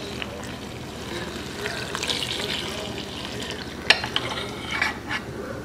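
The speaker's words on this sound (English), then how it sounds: "In goes the 3 cups of water." Three cups of water pour into a bowl of rapid rise yeast for homemade white bread dough, a soft continuous splashing and trickle with a few sharper clinks near the end.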